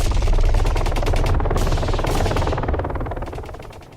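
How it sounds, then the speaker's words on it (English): Rapid bursts of gunfire rattle loud and close, with a dense roar beneath, before fading gradually toward the end. "The heavy beat of the helicopter blades competes with the crackle of gunfire and explosions"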